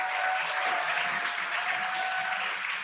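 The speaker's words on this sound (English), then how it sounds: "You can hear the crowd here." A crowd watching a Dragon capsule landing claps and cheers in a continuous dense roar, with a faint steady tone running underneath.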